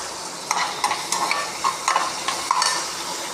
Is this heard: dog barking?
no